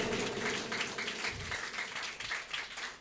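A church congregation claps hands during a sermon, a steady, moderately faint patter of many hands with no clear pauses.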